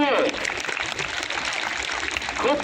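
Children and teachers in an audience clap at a Swami Vivekananda Jayanti Yuva Diwas celebration, a brief dense wash of applause beneath someone speaking.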